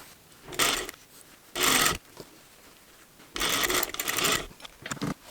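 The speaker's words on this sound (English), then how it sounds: "I am sewing this sliver to the back seam first." A sewing machine stitching a seam on a pair of pants, running in three short loud bursts with quieter pauses of fabric handling between them.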